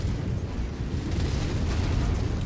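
A heavy ammunition explosion in the MechWarrior 5 Mercenaries video game, a dense sustained rumbling roar that fills the whole moment without any voices.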